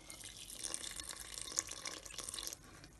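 Water poured from a tap into crêpe batter for stuffed Moroccan square crêpes, a steady close trickle and splash with small drips, moderately quiet and alone.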